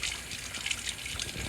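A dropped piece of chopped vegetable is rinsed under a running tap, with a steady close splashing trickle of water throughout and no talk.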